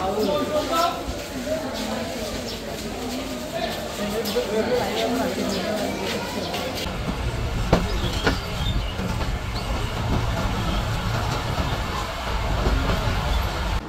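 Titumir Express rolls into Domar railway station, its wheels rumbling and clicking steadily on the rails beneath continuous nearby talk, with a few sharper knocks midway.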